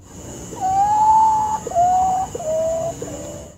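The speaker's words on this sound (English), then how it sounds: "there are 7 species of these Potu birds, and every species has its own creepy sound" A potoo calls three times in a row, each a clear, drawn-out mournful whistle that steps slightly lower in pitch, heard close and alone against a quiet background.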